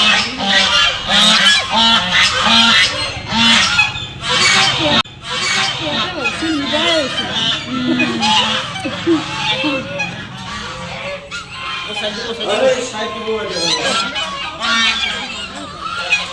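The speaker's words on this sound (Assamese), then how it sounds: "এয়া হাঁহবোৰ দেখিছেনে?" A flock of geese honks loudly and continuously nearby at a Saraswati Puja site in Guwahati, many overlapping calls, with people talking underneath.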